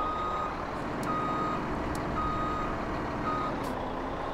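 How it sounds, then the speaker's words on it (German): Steady rhythmic reversing beeps from a truck in the farming game Landwirtschafts-Simulator 17, set against a constant droning engine rumble, with no voices. "Aber der LKW müsste ja auch gleich kommen."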